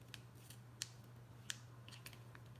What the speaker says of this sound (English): Then use your scissors to cut the rest.